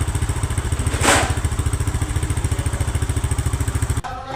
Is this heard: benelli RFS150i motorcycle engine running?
yes